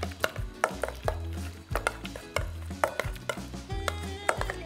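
Bhaji mixture with lime juice, salt and pepper being mixed by hand or spoon in a bowl, giving repeated squelching, clattering strokes in a steady rhythm, close and fairly loud with no talking.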